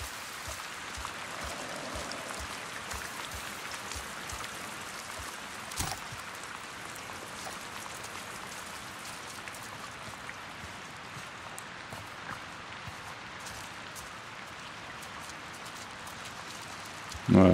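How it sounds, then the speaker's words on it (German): Steady rain patters on surfaces all around, a continuous hiss with occasional louder drops, ending in a brief bump of noise. "Es regnet."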